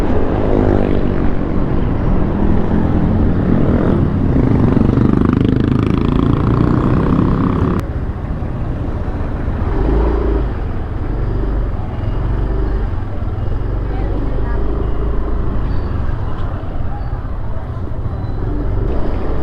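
A registered motorcycle rides along, its engine droning loud and steady with constant road and wind rumble, the pitch shifting partway through as it travels.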